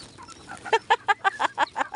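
Hens cluck in a run of about nine sharp, rhythmic calls, close and moderately loud with no voices, where some birds are kept caged for laying eggs.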